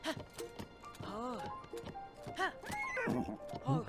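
A horse in Zelda: Tears of the Kingdom whinnies several times over rhythmic galloping hoofbeats, the calls rising and falling in close succession across the whole stretch.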